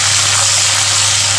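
Washed curry leaves hit hot oil for corn chivda, giving off a loud, dense, hissing sizzle that stays steady from start to end with no talk.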